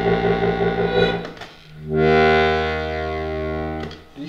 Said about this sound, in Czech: když bas na Heligonce, pokud jedná se teda o Heligonku značky Galicia a favorit 4, věděl, co znamená, když bas vylozuje tenhle ten zvuk